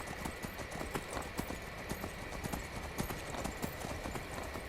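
Horse hooves pounding in a fast, even galloping rhythm in the video game Skyrim, steady and moderately loud over a broad windy game ambience, with no talk.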